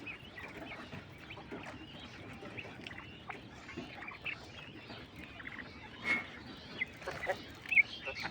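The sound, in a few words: European White Giant Coturnix quail calls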